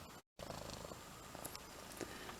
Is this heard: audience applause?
no